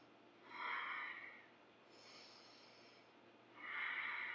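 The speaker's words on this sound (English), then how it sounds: "Take 3 deep breaths." Deep, slow breaths during a beginner yoga session, three soft, airy inhale-exhale swells, close and quiet, with no talking.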